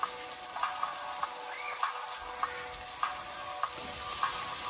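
White fish fillets, patted dry and seasoned with salt and pepper, fry in a pan with an even, moderately quiet sizzle and scattered small pops and crackles, with no talking over it.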